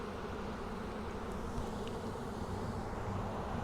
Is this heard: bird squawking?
no